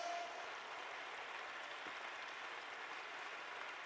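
A church congregation applauds together, a soft, even wash of many hands clapping that holds steady from a distance.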